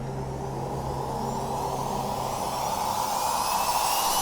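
A tractor hums near a village at night, a steady low engine drone with a car passing and rising toward the end, fairly distant and with no talking.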